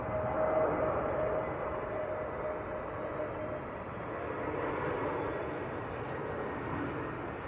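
EasyJet Airbus A321neo landing at Manchester Airport, a broad steady engine roar at moderate distance, holding level throughout with a faint whine running beneath.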